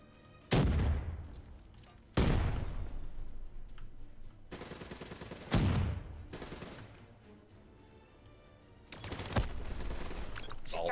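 Gunfire and grenade blasts in the Black Ops 3 campaign: four loud bursts of shooting and explosions, each striking hard then trailing off into rumble, with a final sustained volley near the end and light talk underneath.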